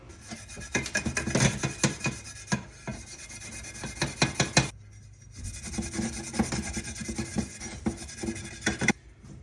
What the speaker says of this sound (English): I'm just gonna grab a Scotch-Brite and rub this down a little bit.